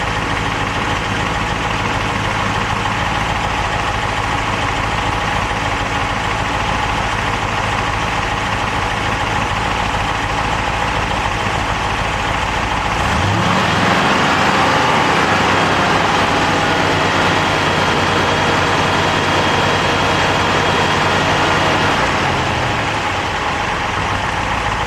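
Engine idles steadily while warming up, a constant loud drone with no talk, shifting in pitch about halfway through and settling back to an even idle.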